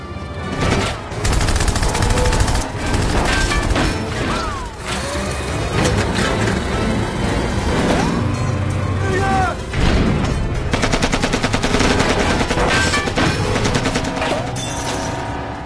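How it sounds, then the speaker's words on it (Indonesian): Rapid gunfire crackles through a police car chase in an action film, dense bursts layered over roaring engines and a loud, busy score for the whole stretch. "terjadilah tembak-tembakan disertai kejar-kejaran"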